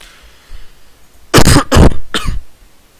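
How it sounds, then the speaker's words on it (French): Three loud coughs or throat-clearing bursts in quick succession, close and isolated, over a faint background hum during a live PC gaming stream. "Une petite toux, c'est rien de bien méchant."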